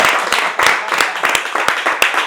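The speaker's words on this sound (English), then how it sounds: "I'm gonna give myself a round of applause" A round of applause from an audience at a leadership and mentorship event, a brisk run of loud, irregular hand claps close by.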